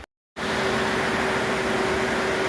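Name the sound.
fans running on a back porch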